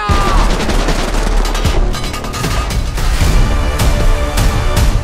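Gunfire from an action film trailer: loud, dense bursts of automatic weapon fire and sharp shots crowd the whole stretch, with booms and crashing impacts mixed in.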